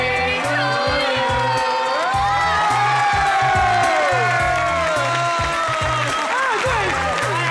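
A TV game show studio audience claps and cheers loudly and continuously, with whoops and shouts mixed into the dense crowd noise.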